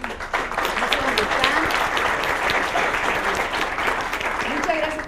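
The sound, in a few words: audience applause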